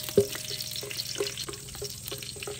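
Whole spices (green and black cardamom, cinnamon, curry leaves, nutmeg and cloves) frying in oil in a pot, a soft steady sizzle with a sharp clatter near the start and light stirring scrapes throughout.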